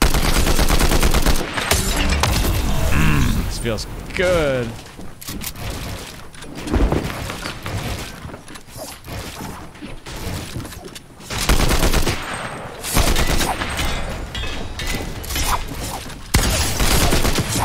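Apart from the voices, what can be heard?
Combat Assault Rifle firing in video game Fortnite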